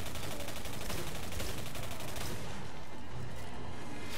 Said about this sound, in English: Watch your fire, Catherine.